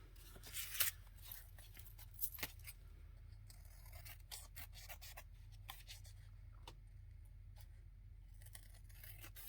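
Scissors snip through coffee-dyed paper for a junk journal, a few crisp cuts early then quieter rubbing and scraping of paper at close range over a low steady hum.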